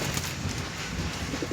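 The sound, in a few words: pigeons cooing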